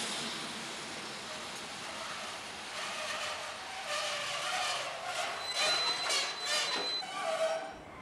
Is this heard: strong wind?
no